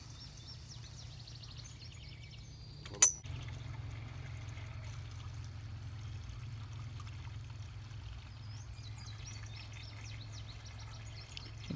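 Water trickles steadily out of a drainage hole in a self-wicking garden tub, a soft, continuous pouring stream, faint and close, with one sharp knock early on and birds calling in the background.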